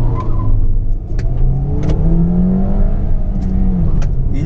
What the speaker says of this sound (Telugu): చలో ఒకసారి ఈ కార్ యొక్క ఫస్ట్ ఇనిషియల్గా 0 to 100 కిలో స్పీడ్ టెస్ట్ చేద్దాం